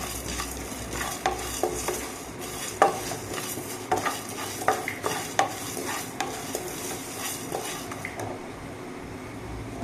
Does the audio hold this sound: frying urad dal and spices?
yes